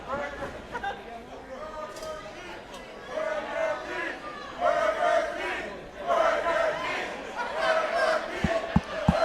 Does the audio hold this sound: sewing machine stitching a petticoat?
no